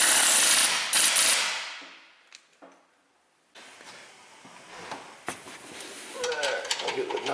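A ratchet tightens the lock nuts on an engine mount. A loud burst of mechanical noise fades away, followed by scattered clicks and a stretch of quiet, then further intermittent ratcheting clicks close by.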